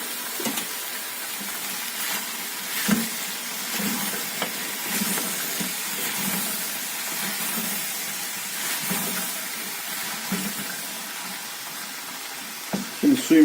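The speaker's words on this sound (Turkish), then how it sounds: "Yarım çorba kaşığı tuzu da ilave edip tekrar karıştırıyorum" Beans sautéing with salt in a pan, a continuous broad hiss of frying with scattered scrapes and taps from stirring, close and fairly loud, with no one speaking.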